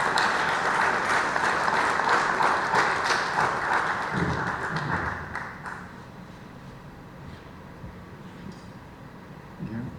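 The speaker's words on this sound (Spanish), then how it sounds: "Démosle una bienvenida y un aplauso al doctor José Alberto Nochebuena" An audience at a public cultural forum claps to welcome a doctor to the podium, a dense burst of applause that holds for several seconds, then fades away into a quiet room with soft shuffling.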